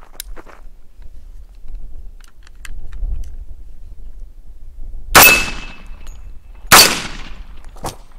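An Olympic Arms AR-15 chambered in 10mm Auto fires at steel targets outdoors: two loud, sharp shots several seconds apart, each followed by a ringing metallic clang, with a fainter crack near the end over quiet rustling.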